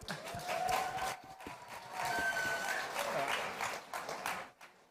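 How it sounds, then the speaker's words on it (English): Audience applause for the Binance Angels at a Binance anniversary event, a dense patter of clapping with some cheering that swells and holds, with voices talking over it before it trails off. "let's give them a round of applause for the Binance Angels."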